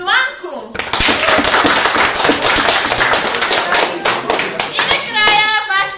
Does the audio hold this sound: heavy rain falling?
no